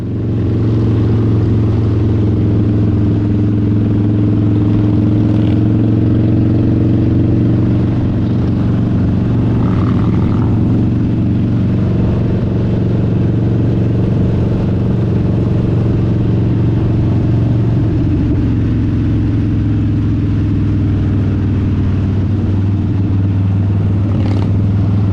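A group of motorcycles rides across the Auckland Harbour Bridge, producing a loud, steady engine drone with a deep low hum and continuous wind rush, the revs swelling and easing slightly over a long stretch with no talking.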